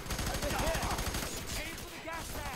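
A submachine gun fires in the video game F.E.A.R. 3, rapid bursts of gunfire rattling loudly and continuously, with a few sharp whines mixed in.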